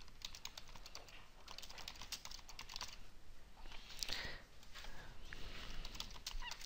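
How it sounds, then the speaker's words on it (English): Typing on a computer keyboard, quick irregular bursts of light key clicks close by at low volume, with short pauses between runs and no talk. "So I'm going to start off by typing in a"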